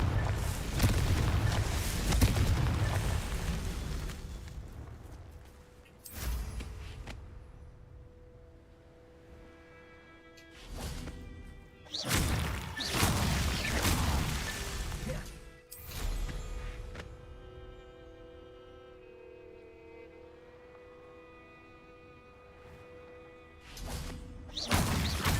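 Confringo explosion spells in the Hogwarts video game: several loud blasts spaced apart, each a sharp broadband burst with a rumbling tail, separated by quieter stretches of tonal game music and ambience.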